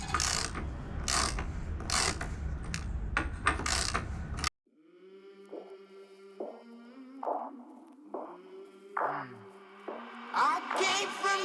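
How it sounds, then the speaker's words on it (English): A ratchet wrench clicks in short bursts while undoing two large 32mm bolts on the front corner of a damaged 2004 Ferrari 575M, close and crisp, after which the sound gives way to music. "we're just going to undo these two big 32mm bolts"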